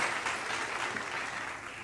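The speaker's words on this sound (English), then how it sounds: "let's give them a big round of applause as we announce each achiever's name" An audience at a school academic excellence awards ceremony gives steady, dense applause for the top achievers, a continuous wash of clapping that holds at an even level throughout.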